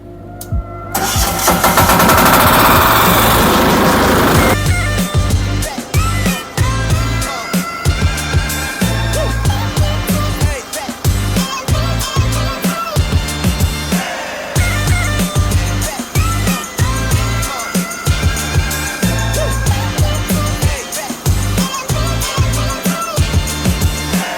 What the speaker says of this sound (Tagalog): At ang makina po natin, napakalakas po yan.